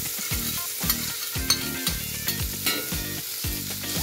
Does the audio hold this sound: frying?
yes